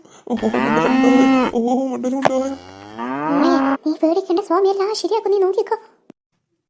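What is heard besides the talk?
cow mooing in a cartoon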